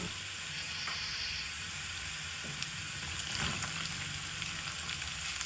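Chopped onion frying with roasted garlic in a pan, giving a steady, close sizzle and hiss with a few soft stirring scrapes, no voices.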